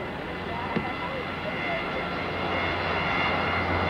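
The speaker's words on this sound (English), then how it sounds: "it can actually take off in 500 feet of takeoff run" Light aircraft taking off at a 1986 airshow in Leicester, a steady broad engine drone that swells gradually, heard from a distance outdoors.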